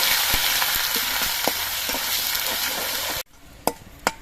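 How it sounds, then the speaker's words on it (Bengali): Ginger paste sizzles loudly in hot mustard oil with tempered spices, a dense steady frying hiss with spatula clicks that cuts off abruptly into quieter, sparse taps. "এবার এর মধ্যে দিয়ে দিচ্ছি অল্প একটু আদা বাটা"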